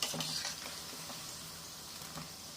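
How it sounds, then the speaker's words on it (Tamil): Aval vadai, flattened-rice fritters, deep-fry in oil with a soft, continuous sizzle and bubbling, fairly quiet and steady, with a few light stirring clinks. "இது நல்லா கொஞ்சம் பொன்னிறமாக வேக வச்சு அப்புறமா நம்ம எடுப்போம்"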